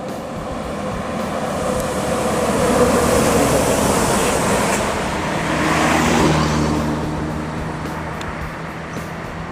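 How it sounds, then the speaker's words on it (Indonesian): A Pangeran intercity bus drives past on a road, its broad engine and tyre roar swelling twice amid steady traffic noise with no voices. "Oke, selanjutnya ada bus Pangeran."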